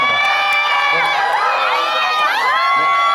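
Cinema audience at a stage greeting for the Korean film Amazon Bullseye, cheering loudly with high shrieks and whoops from many people, a dense, sustained roar close by.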